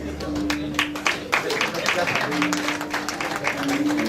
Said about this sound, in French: Ovation, s'il vous plaît.